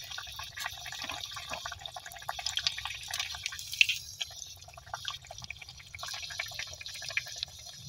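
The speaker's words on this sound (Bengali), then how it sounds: "পকোড়াগুলোকে আমি তেলে ভেজে নিচ্ছি।" Cauliflower pakoras coated in gram-flour batter fry in hot oil, giving a faint, continuous crackling and sizzling with small pops and no talk.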